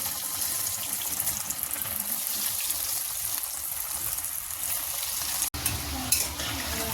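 Vegetable chops deep frying one by one in hot oil in a kadai, with a loud, dense bubbling sizzle throughout, a sharp clack partway, then the frying continues.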